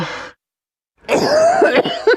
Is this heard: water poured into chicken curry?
no